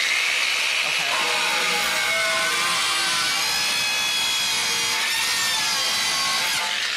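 A DualTools CS450 saw plunge-cuts straight into heavy steel, giving a loud, steady, harsh grinding whine that runs unbroken for several seconds.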